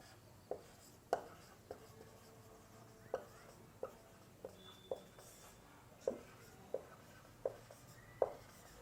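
Writing on a board in a chemistry class: about a dozen sharp taps and short strokes land in an irregular rhythm, quiet and close, with no voices.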